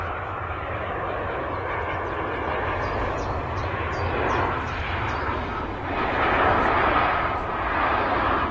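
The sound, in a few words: British Airways shuttle aircraft arriving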